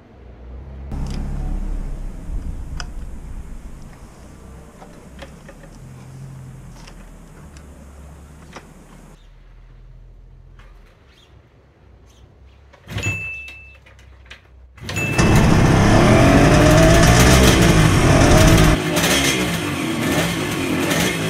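A 1973 Kawasaki S2A two-stroke triple motorcycle is kicked over, with a few clunks and short sputters before it catches and settles into a loud, raspy, close-up two-stroke idle with some blips.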